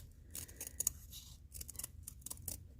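Scissors trim paper backing for a sweetgrass piece, a series of close, crisp snipping and rasping cuts in irregular bursts with short pauses between them.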